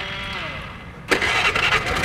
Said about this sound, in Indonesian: Kau bernyala itu motor.